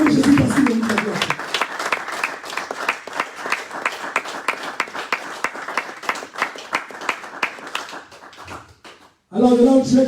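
A church congregation claps in a steady, rapid rhythm for several seconds, the applause thinning out near the end before voices rise again.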